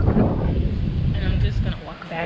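Strong wind buffets the microphone outdoors on a university campus, a loud, steady rumbling roar that fills the whole stretch.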